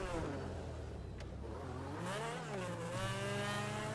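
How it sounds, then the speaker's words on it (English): A Ferrari LaFerrari supercar engine in GTA 5 revs up and down, its rising and falling whine smooth and moderately faint, with no talking. "Right here we've got the Ferrari LaFerrari."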